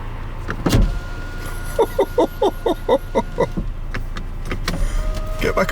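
Frost-bound electric windows on a car strain in a quick run of about eight evenly spaced motor pulses, near and fairly loud, after a door thud and before a faint whir trails off.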